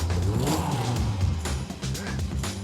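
Caterham 620R sports car accelerating hard from a standing start, a loud close engine note climbing in pitch with a brief dip at a gear change before pulling again, no talk.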